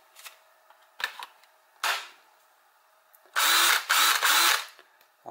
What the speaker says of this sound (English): Let's just check it in the drill quickly.